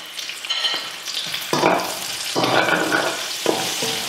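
Shallots and garlic frying in a hot pan, a steady bright sizzle with bursts of louder crackling and stirring as the pieces are moved, close and fairly loud.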